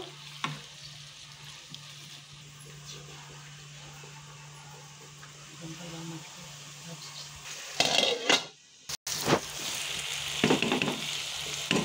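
Garlic paste and tomato sizzle gently in a pan, a soft continuous frying hiss, with clattering utensils and stirring near the end.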